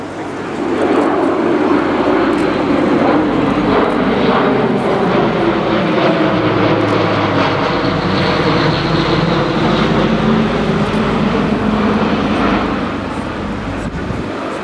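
An Airbus A400M military turboprop transport passes overhead at an air display, its loud, sustained propeller drone shifting in pitch as it flies by, with no talk over the engines.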